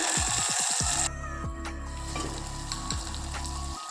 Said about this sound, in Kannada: ಒಂದು ಟೊಮೆಟೊ ಹಾಕ್ಕೊಳ್ತಾ ಇದ್ದೀನಿ ಇದನ್ನು ಸ್ವಲ್ಪ ಬಾಡಿಸ್ಕೊಳ್ಳೋಣ